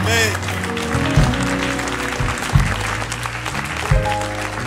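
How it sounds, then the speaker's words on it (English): A church congregation claps for the Lord Jesus during a worship service, rhythmic clapping heard close under loud music and a sustained chorus of voices. "Clap for the Lord Jesus."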